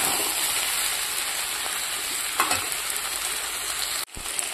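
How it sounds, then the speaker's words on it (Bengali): Spicy red chicken being sautéed in a pan, a loud, steady frying hiss with a few soft stirring scrapes and a brief dip near the end. "তো এই যে কষানো মোটামুটি হয়ে গেছে, ঝাল ঝাল লাল লাল চিকেন"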